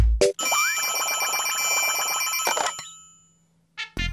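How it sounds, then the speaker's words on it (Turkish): A telephone-style bell rings in a Pocoyo cartoon, one long loud shrill ring lasting a couple of seconds, then fading, followed by two short bursts of ringing. "Yine zil çaldı."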